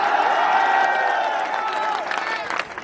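A large crowd at an outdoor political rally in Burhanpur, Madhya Pradesh cheers and claps steadily for a few seconds, loud and dense, with a voice over the crowd noise.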